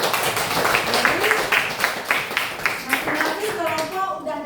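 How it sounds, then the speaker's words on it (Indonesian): A school physics class claps together, rhythmic unison claps in a steady beat with voices mixed in, ending in chatter. "Tepuk tangan dulu"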